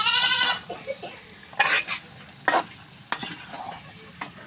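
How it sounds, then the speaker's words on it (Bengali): Tomatoes fry in a pan with a soft, continuous sizzle, broken by several sharp scraping strokes as they are stirred. A goat-like bleat sounds at the very start. "টমেটো ভাজা"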